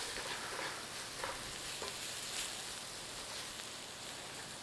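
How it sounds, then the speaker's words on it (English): Flour stirred and cooking in a pan as a roux, a soft steady sizzle with faint scraping stirs throughout, fairly quiet and close, with no talking. "we want to be cooking out the rawness of the flour"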